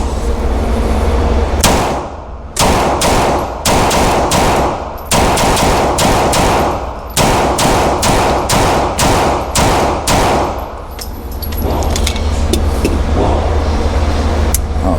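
Beretta M9A4 pistol fired in single action, about a dozen loud sharp shots in quick irregular succession with brief pauses, booming close up over outdoor background noise.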